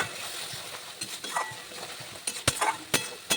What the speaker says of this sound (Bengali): আরও 2-3 মিনিট মতন মশলাটা কষিয়ে নিয়ে